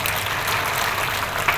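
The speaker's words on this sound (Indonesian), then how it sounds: "Tepuk tangan sekali." Church congregation clapping during a sermon, a brief burst of dense applause filling the room for under two seconds.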